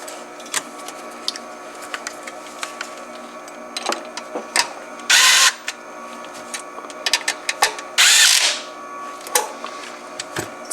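Power drill driving screws into the MCU of a Tesla Model S or X, heard as two loud whirring bursts of a few tenths of a second each, set among light clicks and handling taps.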